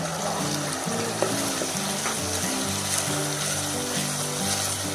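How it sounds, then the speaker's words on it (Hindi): Mutton and a kilo of shelled green peas frying together in a pan for mattar gosht, a continuous dense bubbling sizzle heard close and steady with faint occasional clinks. "गोश्त और मटर को इकट्ठा ही भून लेते हैं"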